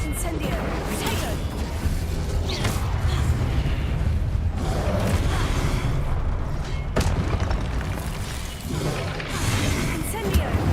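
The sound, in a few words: spell explosions (Incendio, Confringo) from video game Hogwarts Legacy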